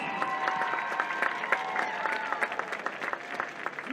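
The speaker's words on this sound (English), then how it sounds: "Give them a round of applause." Stadium crowd applauding the Harding High School 2024 Homecoming Court at Mollenkopf Stadium during a varsity football game, a steady wash of clapping and cheering with a few whistles, sustained and fairly distant.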